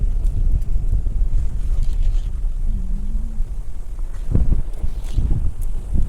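Strong wind buffets the microphone in a constant low roar on a road between Antique and Iloilo, with gusts thumping harder near the end and a faint engine hum underneath.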